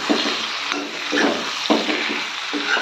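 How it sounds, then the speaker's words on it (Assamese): Oil sizzles and crackles under frying noodles, with repeated stirring and scraping of a spatula against the pan at close range. "এতিয়া মই বামিকেইডোখৰ তেলত ফ্ৰাই কৰি ল'ম।"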